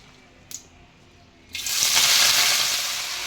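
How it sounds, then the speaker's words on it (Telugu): Amaranth leaves drop into a hot pan after a faint clink and burst into a loud, steady frying sizzle that holds close and bright to the end, with no talking. "ఫస్ట్ అయితే తోటకూర అయితే మనం వేయించేసుకుందాం"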